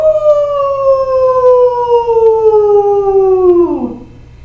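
Children in a kids' yoga class imitate a dog howl together, one long sustained vocal tone that slides gradually downward and drops off sharply at the end, loud and close.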